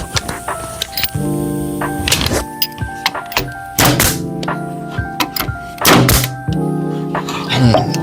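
A nail gun fires into maple hardwood filler strip, giving several sharp, loud thunks spaced a second or two apart with quieter handling noise between shots.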